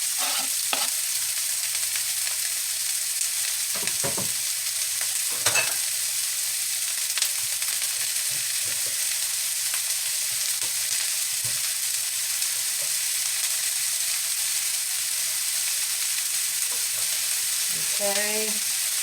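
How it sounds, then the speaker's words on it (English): Mushrooms and other vegetables for a vegan meatloaf sizzle steadily in hot oil in a pan, with a few stirring scrapes and clatters partway through and near the end, close by and continuous without talk. "that oil's hot in that pan, and we're going to put our vegetables that's going inside of our loaf"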